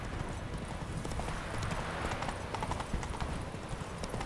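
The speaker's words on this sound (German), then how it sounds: "Komm, beweg dich mal, du Pferdchen, du." Horse hooves trot in The Witcher 3 video game, a dense, steady clip-clop rhythm sounding close and continuous throughout.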